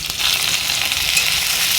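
Vegetables and onion frying in hot oil in a kadai, a steady close sizzle that hisses continuously throughout without any voices.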